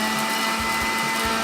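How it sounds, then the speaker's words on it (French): Blender grinding tea leaves into powder, a loud continuous high-pitched motor whine with a steady grinding roar for a brief moment. "On mixe. Ça va devenir de la poussière."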